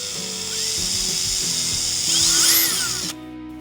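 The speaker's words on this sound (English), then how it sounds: "Drill the pilot hole." A power drill bores a pilot hole in a 100-litre water tank inside a VW Crafter 4x4 camper van, whirring close and loud with pulsing pitch changes, rising briefly near the end before cutting off.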